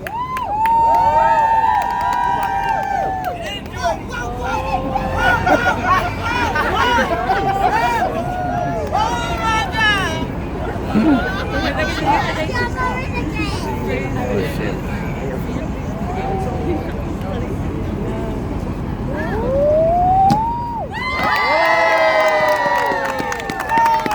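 A large street-show crowd in Times Square, New York, cheers and shouts loudly, with excited voices and children yelling mixed into a continuous roar of noise.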